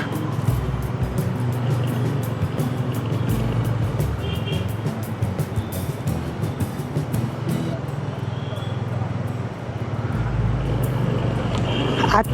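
Road traffic passes around a moving motorcycle, a continuous busy roar of engines and wind with occasional brief horn toots, and voices talking faintly beneath.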